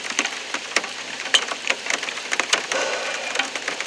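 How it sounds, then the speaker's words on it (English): Rain falling in the woods: patchy patter of drops hitting leaves and wood, with irregular close ticks and a light hiss, fairly near and moderately loud. "the rain's starting to pick up."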